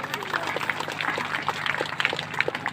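Audience clapping to honour the stage organiser at an annual Phalgun festival gathering at a Kabir Math in Chhattisgarh: steady, moderate applause for a few seconds, with a voice talking over it.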